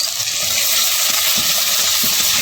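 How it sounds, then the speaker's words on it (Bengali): Metuli frying in a pan gives a steady, dense sizzle and hiss that stays loud and even throughout, with no voices over it. "এখন ভালো করে একটু ভেজে নিতে হবে"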